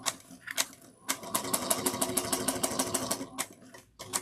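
A sewing machine stitches a zipper pouch seam at a quarter inch, running in a steady rapid chatter with a few short stops and restarts, close and clear.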